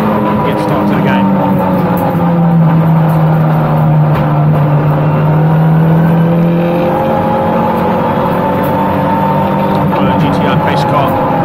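Race cars at a SupaCup race roll through on track behind a pace car in a loud, continuous engine drone that swells and slides in pitch as cars pass close by, with a commentator talking over it.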